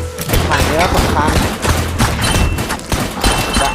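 Rapid, dense bursts of gunfire from a mobile zombie-shooting video game crackle and thump almost continuously, loud and close, with a voice talking over the shots.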